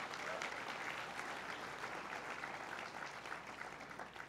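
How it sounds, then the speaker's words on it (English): Applause from a dinner audience at an Empire State Pride Agenda fall dinner, a steady, fairly faint wash of clapping lasting the whole stretch and fading slightly toward the end. "He does deserve a round of applause for that."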